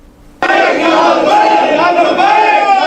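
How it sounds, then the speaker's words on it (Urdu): A large crowd of devotees at a gathering by a grave suddenly bursts into loud, massed chanting of Labbaik slogans after a brief quiet. The many voices stay close and forceful to the end. "لبیک اور اس طرح کے نعرے عقیدت مند جمع ہیں."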